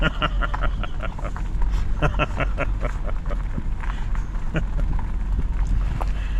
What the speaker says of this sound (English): it is cold and it is windy